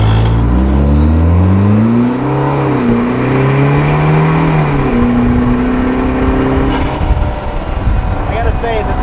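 Turbocharged 2020 Vanderhall Venice three-wheeler pulling away hard, engine note rising through several gear changes while the turbo whines and spools up, then a hiss and whoosh from the wastegate near the end; loud and close.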